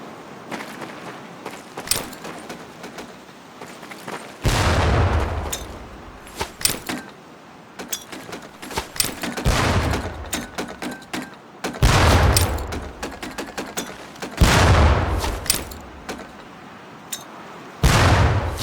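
Training grenades burst repeatedly in Medal of Honor: Pacific Assault, loud booming blasts a few seconds apart amid scattered gunfire-like cracks and clatter, with no talk.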